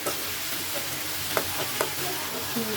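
Lentil dumplings (bori) fry in a pan with a constant, steady sizzle, and a few faint taps of a spoon stirring come through near the end.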